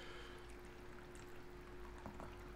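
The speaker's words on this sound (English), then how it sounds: "Pour some coffee while we wait." Coffee poured into a cup, a soft continuous trickling stream heard close but faint for a couple of seconds.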